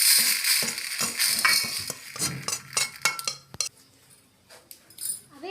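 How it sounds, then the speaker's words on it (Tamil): Roasted moong dal being scraped out of a pan into another vessel, with sharp metal clinks and scrapes of a spoon on cookware coming in irregular bursts, loud and close, easing off toward the end. "பாசிப்பருப்பு நல்லா வறுத்தாச்சு. இப்போ வேறு ஒரு பாத்திரத்துக்கு மாற்றிடலாம்."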